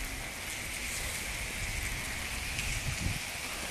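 Rain falls steadily as a dense, even hiss of drops on surfaces, continuous and fairly close, with a few slightly louder patters near the end and no voices.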